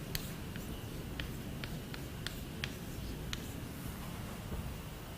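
Chalk or marker tapping and scratching on a board while an equation is written, a series of faint, short strokes over a steady room hiss, with no talk.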